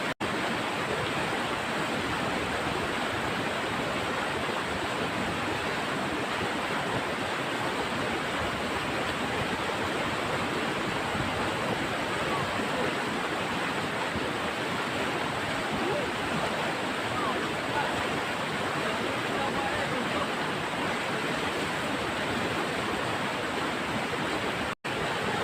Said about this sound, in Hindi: यहाँ पर पानी बहुत ज़्यादा है, कारण भी है, बहाव बहुत ही तेज़ है।